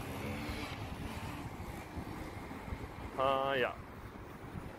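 Strong wind buffets an outdoor microphone in Dubai with continuous low rumbling gusts, heard under someone speaking German and a brief spoken interjection.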